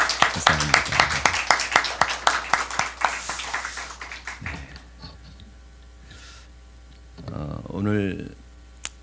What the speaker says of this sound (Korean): 다시 한번 격려의 박수 한번 주셨으면 좋겠습니다